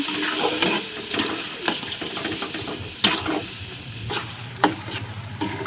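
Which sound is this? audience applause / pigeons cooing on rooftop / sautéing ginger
sautéing ginger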